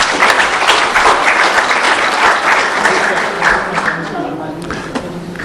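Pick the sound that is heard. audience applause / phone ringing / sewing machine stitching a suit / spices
audience applause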